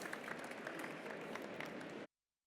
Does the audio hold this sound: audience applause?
yes